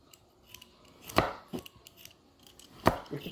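Carrots chopped with a knife for chop suey, a few sharp separate blade strikes on a cutting board, close and clear with quiet gaps between cuts.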